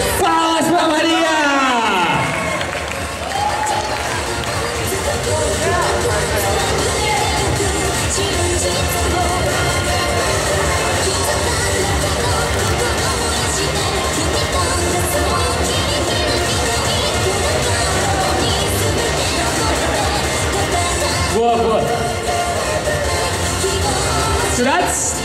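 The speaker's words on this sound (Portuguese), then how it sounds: "Palmas pra Maria!" Audience at a winter cosplay parade applauds and cheers for a cosplayer named Maria, a loud, dense wash of clapping and crowd noise sustained throughout, with voices mixed in.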